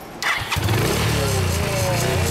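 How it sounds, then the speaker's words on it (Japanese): A 1994 Honda Impulse motorcycle engine is started: a sharp crank and catch, then a loud, close rumbling idle that holds steady to the end. "あのエンジン音かけてもらえるかな"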